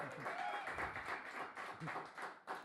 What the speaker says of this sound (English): Hey, give him a round of applause